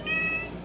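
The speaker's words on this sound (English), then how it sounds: "Excuse my cat Percy for meowing in the background." A domestic cat named Percy meows once in a drawn-out, moderately loud, tonal call indoors, with a faint background hum and no talking.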